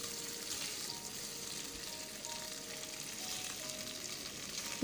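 Spices, garlic and onion powder, ginger and salt stirred in a hot pan for macaroni, giving a steady, fairly quiet sizzle and frying hiss throughout with no talk.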